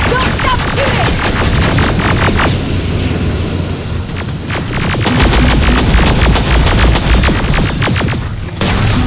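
Dense, continuous gunfire from a Terminator: Resistance firefight, with rapid automatic bursts cracking over a loud, chaotic battle din and rumbling low booms throughout.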